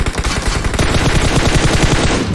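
Rapid automatic gunfire from a squad shooter video game, a dense, loud, continuous burst of shots lasting a couple of seconds with no talk over it.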